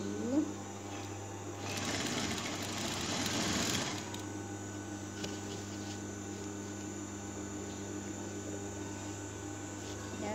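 A sewing machine stitching a seam in fabric, its steady mechanical whir running the whole time and swelling briefly, heard close with no one talking.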